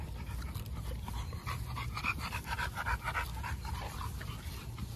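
A five-month-old puppy pants rapidly and steadily up close, with quick breathy huffs repeating throughout and a faint whine mixed in.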